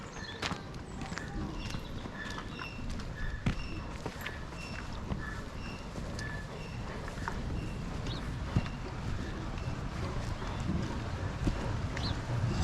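Water flowing into a corn mill in the Castle Ward farmyard makes a steady, close rushing wash. Scattered light clicks and knocks sit on top of it throughout.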